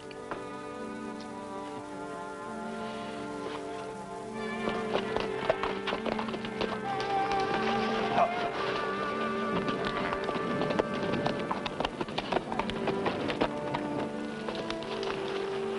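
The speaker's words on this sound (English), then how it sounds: "What's the matter with your horse?" A restless, ornery horse clip-clops its hooves, with a quick run of sharp, uneven hoof taps starting partway through and continuing over a background of music.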